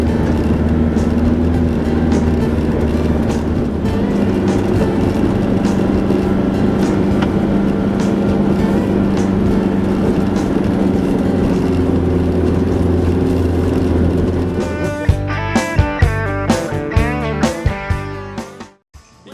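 A 4WD vehicle's engine labouring steadily up the steep Billy Goat Bluff track, a loud sustained drone with shifting pitch, then a cluster of clanks and knocks near the end as it eases off.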